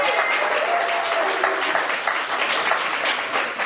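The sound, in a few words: audience applause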